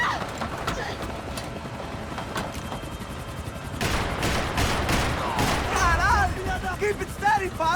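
Shootout in Max Payne 3, scattered gunshots and bursts amid chaotic action, with a loud volley building in the second half and voices shouting over the fighting.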